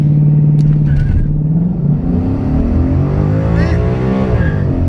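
A 2015 Ford Mustang with a 6R80 transmission on a transbrake, its engine held at full throttle in a loud, steady roar that rises in pitch, close by and filling the whole stretch.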